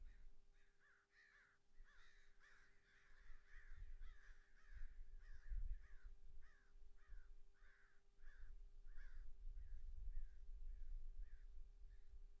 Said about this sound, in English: I think we just got a resounding round of applause from the squawks of the birds